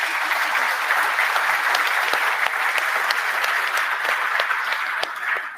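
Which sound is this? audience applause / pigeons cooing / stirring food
audience applause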